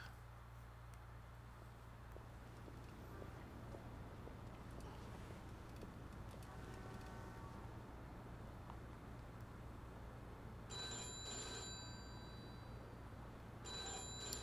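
Telephone ringing in the video game Mafia 2, a steady bell-like ring in two short bursts over a constant low engine-like hum and game ambience, with no talk.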